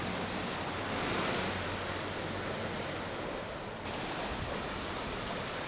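Strong waves crash continuously against the rocky coast at Guryongpo, Pohang, a dense, roaring surf wash with a brief dip near the end, steady and close with no voices.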